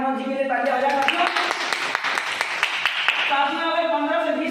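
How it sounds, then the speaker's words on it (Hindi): An audience claps in applause for Manoj at an income-plan business meeting, a steady patter of hands rising and holding for a few seconds under someone speaking over it. "एक बार मनोज जी के लिए तालियां हो जाए साथियों"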